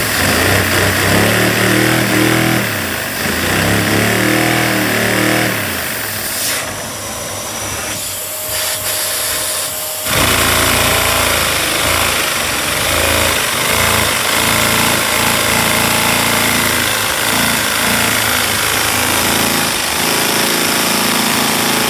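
A small LEGO vacuum-powered Volkswagen VR2 engine runs at high rpm with a loud, rapid rattling chatter, dipping briefly midway before returning to its fast, buzzing clatter.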